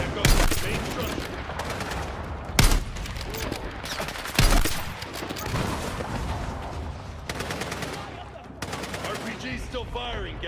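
Dense video game firefight with rapid automatic rifle fire, RPG launches and heavy booms, shots crowding together in ragged bursts and sharp blasts throughout.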